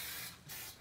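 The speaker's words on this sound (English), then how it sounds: "Why don't you spray your hands and you can dip?" Cooking spray hisses from a can onto hands while baking, two short close bursts with a brief pause between, no talk.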